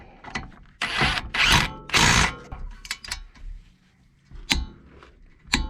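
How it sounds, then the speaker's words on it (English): Power tool driving bolts down on a broken front strut of a 1997–2001 Honda CR-V, several short whirring bursts with ratcheting clicks and gaps of quiet handling between them. "I'll just drive those bolts down"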